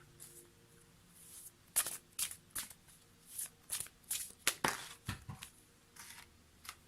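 Tarot cards are shuffled by hand in a quiet room, a run of crisp riffling flutters and soft slaps, close and fairly faint.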